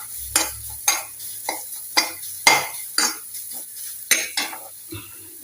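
Ginger and fenugreek leaves fry in a pan while a spoon stirs them, making about a dozen evenly spaced scraping strokes over a soft sizzle, close by, with no talk.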